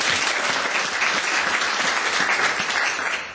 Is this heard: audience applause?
yes